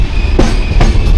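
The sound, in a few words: express train arriving at Sangameshwar Road station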